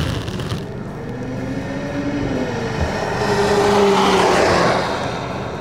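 Mercedes AMG car driving on a rain-soaked race circuit, engine note rising and sweeping as it pulls away, with a swelling hiss of spray from wet tires, heard from a moderate distance, no speech.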